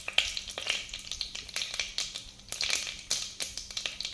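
Bay leaf dropped into hot oil for a restaurant-style vegetable pulao, giving a steady close sizzle with crackly bursts and stirring scrapes pulsing through the whole stretch, no talking.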